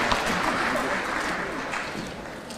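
Graduation audience at a university undergraduate commencement applauding, a continuous broad clatter of many hands, steady and slightly easing, with faint voices mixed in.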